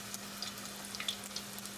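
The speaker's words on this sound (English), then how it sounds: "So you can see them frying really good. They fry up really fast." Crab and cheese wontons fry in hot oil with a steady, soft sizzle and crackle, a faint continuous hiss with scattered small pops and no talking.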